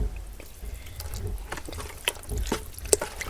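Watery, mashy fermented bird feed stirred in a container, giving soft irregular sloshes, drips and splashes that come close and fairly faint.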